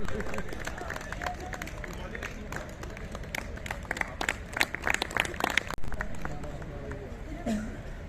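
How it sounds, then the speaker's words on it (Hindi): An audience claps loudly at a Republic Day celebration held by BBMB, scattered sharp claps building over crowd murmur and voices, thinning out near the end. "जोरदार तालियां।"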